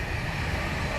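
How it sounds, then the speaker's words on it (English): A passing train makes a steady, close broadband rumble that fills the whole second without a break, with no voices over it. "excuse the train"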